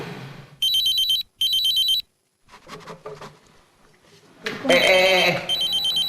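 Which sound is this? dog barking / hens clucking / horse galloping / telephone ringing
telephone ringing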